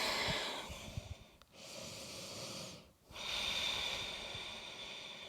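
Slow, deep breaths drawn and released through the nose while holding a standing yoga pose, each long airy inhale and exhale close and soft, with two brief pauses between breaths.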